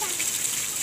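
Water spraying while a tractor is washed outdoors, heard as a steady, close hissing gush that lasts less than a second.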